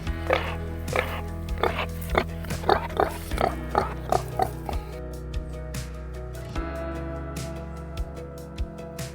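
Pigs on a farm near a loading trailer give a run of short grunts and oinks, close and fairly loud, over a steady low hum, then fading to a few scattered sounds.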